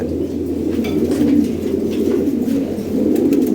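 Lahori pigeons, an original European breed, coo in low, rolling, throaty calls that swell and repeat close by, with a faint flutter of higher sounds behind.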